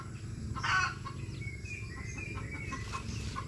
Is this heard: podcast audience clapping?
no